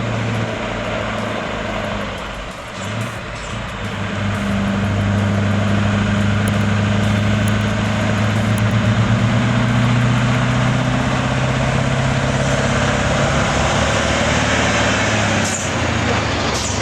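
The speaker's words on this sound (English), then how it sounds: "That V8 roar from the Scania 4 Series, pure thunder on wheels, pulling an overload trailer" Scania 4 Series V8 truck engine pulling an overloaded trailer: a deep, steady roar that swells after a brief dip and holds loud and close, with a faint hiss at the end and no talking.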